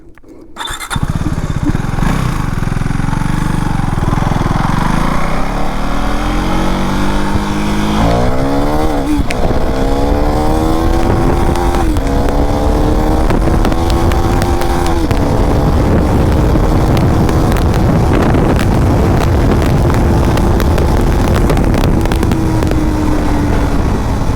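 A KTM Duke 390 gen 3 motorcycle in track mode accelerates at full throttle, its loud close engine whine climbing in pitch through several gear changes, then holding a high, sustained scream.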